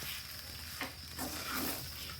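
Tempering sizzles in a pan for patrode, a steady crackling fry with a few short stirring scrapes, faint and close with no voices.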